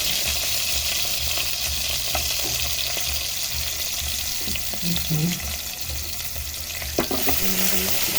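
Garlic sizzles in hot oil in a pan for squid adobo, a steady close frying hiss with occasional stirring clinks throughout.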